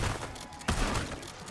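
An unsuppressed shotgun fires in Black Ops 6 Zombies on Terminus, with a sharp blast and a second crack about halfway through among dense in-game noise.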